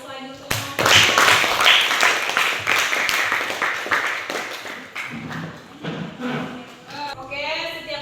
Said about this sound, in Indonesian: beri aplaus lagi untuk